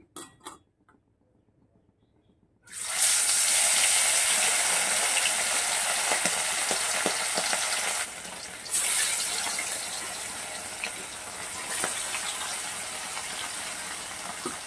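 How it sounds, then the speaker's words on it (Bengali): Bata fish rubbed with turmeric and salt frying in hot oil in a pan, a loud sudden sizzle bursting in after a quiet start and hissing steadily to the end, dipping briefly midway. "দেখো বন্ধুরা, বাটা মাছগুলোকে আমি ভেজে নিচ্ছি।"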